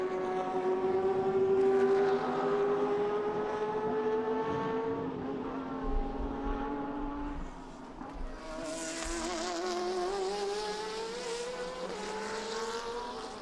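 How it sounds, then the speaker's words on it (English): Racing engines at the Asian Le Mans Series round at Inje in 2013 wail at a high, steady pitch, rising and falling through the gears as cars pass at moderate distance, with no talk over them. "the tyres and the engines must be screaming out for mercy"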